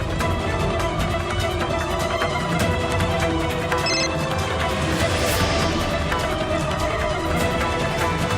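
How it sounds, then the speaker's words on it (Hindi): A telephone rings loudly and continuously over a dense, busy background, its electronic tone repeating without pause. "अनु फोन उठाओ।"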